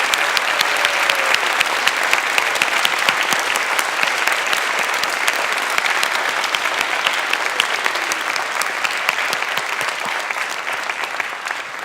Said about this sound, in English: Could we give a round of applause to parents, family, grandparents, cousins,